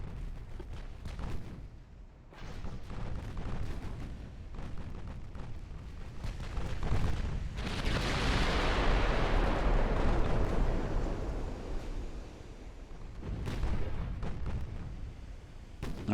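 Naval secondary guns fire in the warship game Ultimate Admiral: Dreadnoughts, a series of heavy booms followed by a long rumbling blast that swells and fades, then another distant report.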